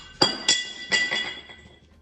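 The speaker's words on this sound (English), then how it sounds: "That was the sound of me dropping the cam gear." Several bright metallic clinks and rattles as a metal engine cam gear is dropped, hits a surface and bounces, ringing briefly before settling.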